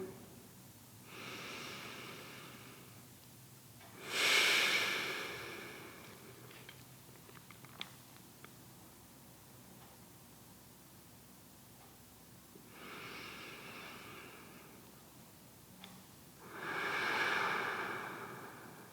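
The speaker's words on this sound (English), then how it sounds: "see if you can lengthen the exhale. So the exhale becomes even longer than the inhale" Slow yoga breathing: long, soft breaths drawn in and let out, with lengthened exhales. Four or so airy swells rise and fade at an unhurried pace with quiet pauses between them, close and gentle.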